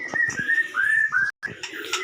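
A caged white-rumped shama calls with sustained whistled notes in a simple breeding enclosure, the song close and continuous apart from a brief gap.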